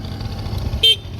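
Honda Tact AF30 scooter horn giving one short, close beep that stands out over a low idling engine.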